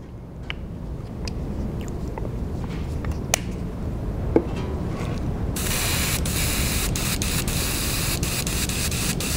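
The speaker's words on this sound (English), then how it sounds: "go ahead and spray the next coat on top of a wet coat of paint without heat setting" Paint is sprayed as a wet coat over a wet coat on a shad lure pattern, heard as a steady airbrush hiss, with a few sharp clicks before the spray starts and a louder continuous hiss after about five seconds.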